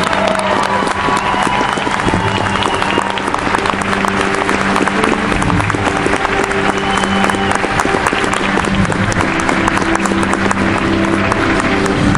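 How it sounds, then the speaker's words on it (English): Spectators at an Army recruit graduation ceremony give the soldiers a long round of applause, a loud, steady wash of many hands clapping that stays even and unbroken throughout, with faint crowd noise mixed in. "let's give these soldiers a round of applause for such a great job representing the infantrymen of our past"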